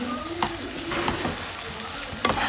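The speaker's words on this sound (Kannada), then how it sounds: "ಮತ್ತು ಇಲ್ಲಿ ಆನಿಯನ್ ಫ್ರೈ ಮಾಡ್ಕೊಳ್ಬೇಕು. ಸ್ಟೌಪಲ್ಲ ನೋಡಿ ಹಂಗೆ ಚಟಪಟ ಅಂದ್ಬಿಟ್ಟು" Onions frying for pav bhaji in a pan on the stove, with a loud, close, continuous crackling sizzle and occasional sharp sputters and scraping stirs, no talking.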